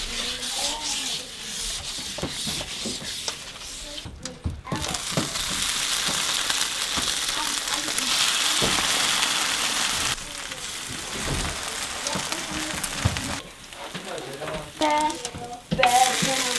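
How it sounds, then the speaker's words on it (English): Butter sizzles and crackles steadily in a pan on a wood cook stove in an off-grid Alaska cabin, close by, with occasional stirring and scraping; brief murmurs of voice drift in. "See how my butter sizzles?"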